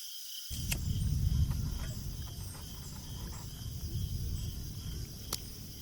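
Steady outdoor evening ambience at a campsite with a constant insect-like buzz, crickets chirping faintly in the background, with low rumbling wind throughout.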